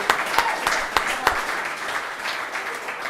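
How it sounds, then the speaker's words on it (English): Audience applause at a football club's end-of-season awards event, a steady wash of clapping with a few sharp louder claps standing out near the start, fairly close and continuous. "round of applause, right?"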